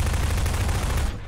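Shotgun fire in the Half-Life 2 Synergy co-op game: a loud, dense burst of gunfire filling the clip, then dropping off sharply near the end.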